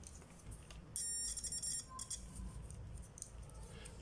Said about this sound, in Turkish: Buzzer sesimizi duyduk.